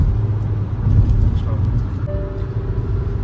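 A 2023 Hyundai Verna cruises at speed on an expressway, giving a steady low road and engine rumble with tyre noise throughout, while someone talks over it.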